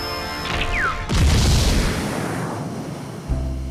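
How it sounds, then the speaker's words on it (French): A cartoon robot is blown up in a single loud, deep boom that follows a brief rising whistle and then rumbles and fades away over a couple of seconds, with no talking. "Tu as fait exploser Proto Boy!"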